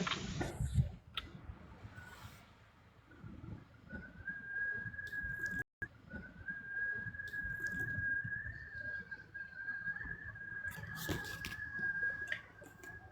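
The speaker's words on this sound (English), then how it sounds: "That's the wind making that noise?" Wind whistling through a Wyoming valley past a house porch, a steady thin high tone that holds for several seconds over a broad rushing background, fairly faint and alone.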